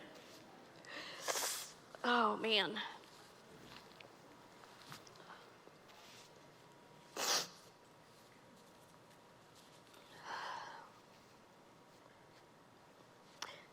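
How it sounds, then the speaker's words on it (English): A woman blows her nose during a quiet recovery testimony talk. There are a few short, honking, squeaky bursts with pauses between them, and a brief murmured remark in a hushed room. "I have to blow my nose."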